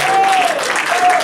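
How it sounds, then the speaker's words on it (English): A church congregation claps in praise, giving a dense burst of loud applause with a voice carrying over it. "Now give the Lord a mighty clap of praise"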